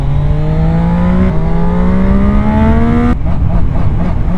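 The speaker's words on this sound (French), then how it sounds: "Le moteur de cette moto, c'est un 3 cylindres." A Zontes 703 RR three-cylinder motorcycle engine revs in a steady rising whine, stepping up through two surges before cutting back sharply, loud and close with no voices.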